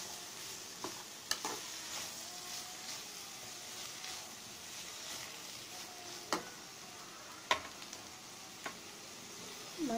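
Finely chopped cabbage being cooked for a Tamil kootu gives off a faint, steady sizzle as it is stirred in a pan, with a few sharp clicks of the utensil against the pan.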